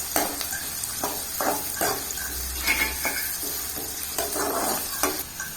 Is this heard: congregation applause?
no